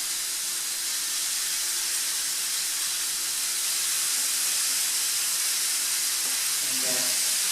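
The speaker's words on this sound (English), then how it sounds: "So I'm just going to put one on the griddle and see." Skirt steak sizzles on a hot griddle with a constant loud, bright hiss and crackle, close by, with a faint voice near the end.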